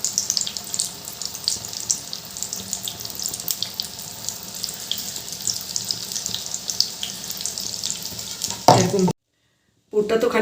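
Stuffed chili chops frying in oil, a continuous bright crackling sizzle at moderate loudness, cutting out abruptly near the end before resuming briefly.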